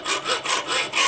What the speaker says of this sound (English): And I'm going to take a hacksaw,